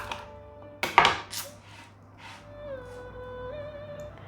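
A sharp knife cutting through an onion on a chopping board: a few crisp close cuts in a quick cluster, then a quieter tail with faint kitchen hum.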